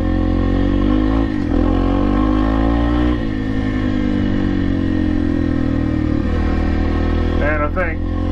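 A 250R motorcycle engine drones steadily at close range during riding practice, with its pitch dipping and rising as the throttle changes and a brief higher rev near the end.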